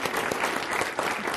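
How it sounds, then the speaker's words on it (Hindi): A studio audience at a televised Hindi news debate claps steadily, a dense, continuous burst of applause filling the room. "ताली बजा दीजिए इनके लिए।"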